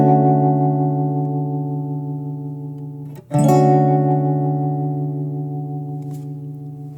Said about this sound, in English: Now if we turn the depth all the way up to 25,